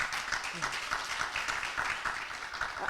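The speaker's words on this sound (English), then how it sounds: "Please, can we give Ivory Coast a round of applause, please?" Conference attendees clap for Ivory Coast in a moderate, scattered round of applause that stays fairly even across the moment, with some voice mixed in.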